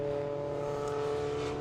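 Group A and Group C touring race cars circling a track, their engines a steady, loud drone with a sustained high pitch, heard alone without any talk.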